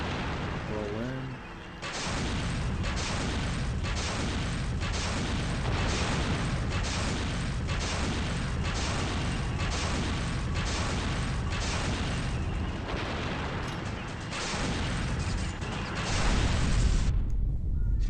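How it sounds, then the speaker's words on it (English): Rapid, evenly spaced gunfire blasts at a tank in the action game Ninja Gaiden Black, loud and steady for most of the stretch with a brief lull, a voice talking over the shooting. "So you want to shoot exactly where I'm shooting."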